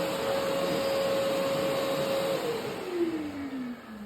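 A Festool dust extractor vacuum runs for sanding, a loud steady whine and airflow hiss whose motor pitch drops as it spins down near the end.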